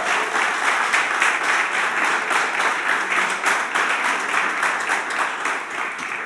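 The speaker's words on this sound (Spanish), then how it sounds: "Los recibimos con un fuerte aplauso en la casa del Señor" A church congregation applauds loudly and steadily inside a house of worship, a dense wash of many hands clapping with pulsing swells throughout, no voices standing out.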